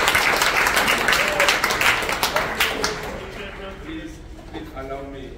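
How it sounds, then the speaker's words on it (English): A crowd at a high school in Soweto, South Africa, applauds with dense, crackling clapping that fades after a few seconds, leaving a voice speaking over the dwindling claps. "A round of applause for everybody."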